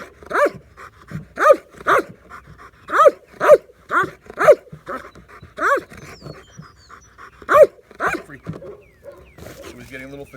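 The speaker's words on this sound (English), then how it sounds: "you see the barking get interrupted by him looking for oxygen" A dog in intense barking training lets out about a dozen sharp, rhythmic barks close by, breaking into audible panting for breath between bursts as it tires.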